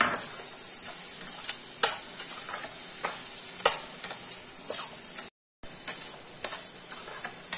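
Chopped capsicum sautéing in a hot pan for tamarind chilli, a steady oily sizzle with repeated spatula scrapes and stirs, close and continuous with one brief dropout.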